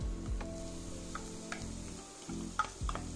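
Shredded pumpkin and pimento grains sautéing in a pan for Jamaican-style pumpkin rice, a steady close sizzle with soft stirring scrapes and a few light utensil clicks, no voices.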